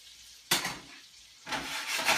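Onions hitting hot butter and olive oil in a pan, a loud sizzling burst that settles into a steady crackling fry and swells again as the pan is shaken, with no talking.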